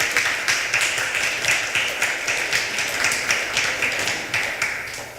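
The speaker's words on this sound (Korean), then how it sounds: "박수 부탁드립니다." Audience applause at a Won Buddhist arts panel talk fills the hall with dense, even clapping from many hands, sustained at a steady level and tapering slightly at the end.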